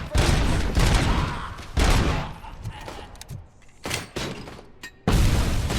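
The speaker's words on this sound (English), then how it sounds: "Les fameuses grenades." Grenades going off in the Robocop Rogue City shooter during a bank heist, heard as several loud, sharp bursts spaced a second or two apart, with gunfire and voices mixed in.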